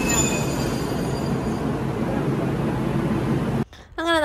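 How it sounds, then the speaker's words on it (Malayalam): A tram rolls along its rails in Japan, giving a loud, close, steady rumble and rail roar that cuts off abruptly near the end, followed by a brief voice. "നമ്മുടെ ട്രാം വന്നു കേട്ടോ."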